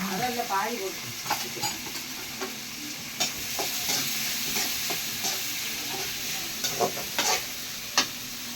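Onions sizzle and crackle steadily in a hot pan, with scattered sharp clicks and scrapes of stirring over the continuous frying hiss.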